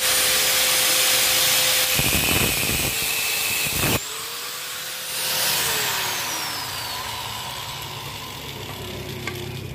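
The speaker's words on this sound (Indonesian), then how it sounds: "Sekarang kita potong ujung as ini untuk las kupingan kopling." An angle grinder cuts the end of a Yamaha RX King motorcycle clutch shaft, a loud continuous high whine that pitch-shifts as the disc bites and eases off the metal, running steadily throughout.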